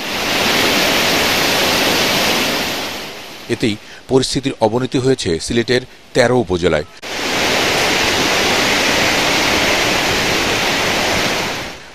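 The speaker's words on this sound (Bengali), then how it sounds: "পাহাড়ি ঢলের সাথে দুদিন ধরে চলছে টানা ভারী বৃষ্টি" Rushing floodwater from hill runoff and two days of heavy rain in Sylhet, Bangladesh, a loud, steady broadband roar that runs for several seconds, breaks off while a person speaks, then returns just as strong.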